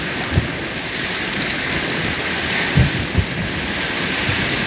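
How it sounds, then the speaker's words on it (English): Steady roar of strong wind, around 22 knots, buffeting the microphone aboard a sailing catamaran at sea, with occasional low thumps of gusts or waves slapping the hulls and a constant hiss throughout. "The wind is 22 knots."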